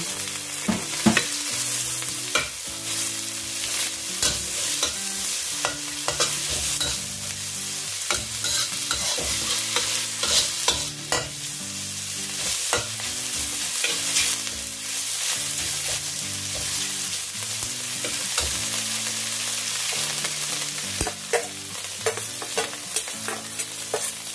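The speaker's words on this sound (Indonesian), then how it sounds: "kita goreng-goreng dulu biar agak matang" Sausages sizzle in a hot frying pan while being stirred, a continuous close crackle punctuated by repeated scraping and clinking strokes of the utensil against the pan.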